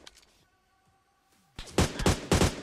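Bursts of gunfire in PUBG Mobile, a brief shot at the start, then a loud rapid volley of several shots after a quiet pause, close and dominant.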